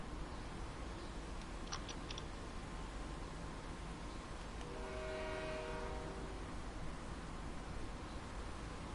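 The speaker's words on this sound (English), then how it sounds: "Where does that sound come from? It's obviously my train" A train running in the Train Sim World video game on the Oakville Subdivision, a quiet steady rolling noise with a short horn-like tonal blast in the middle, no voices.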